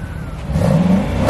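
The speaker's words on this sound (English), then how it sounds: "That is a beautiful sounding V8" A V8 car engine at a car meet revs up from a steady idle rumble into a rising, loud throaty roar that holds near the end.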